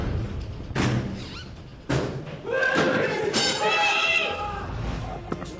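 Police forcing entry through the front door of a third-floor flat: sharp thuds and slams from a door being hit, followed by shouting voices.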